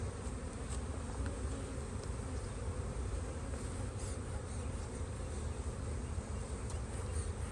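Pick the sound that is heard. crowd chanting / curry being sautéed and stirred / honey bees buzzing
honey bees buzzing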